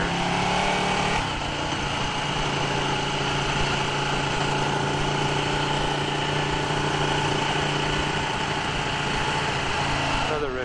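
A Ducati 1299 Panigale S motorcycle idles steadily, its engine hum loud and close throughout with a constant even drone, while a voice talks over it.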